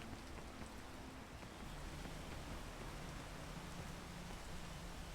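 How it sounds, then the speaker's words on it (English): Steady rain falls outdoors as a constant broadband hiss, filling the whole stretch evenly with no voices. "I'm gonna wait till the rain is going to stop raining."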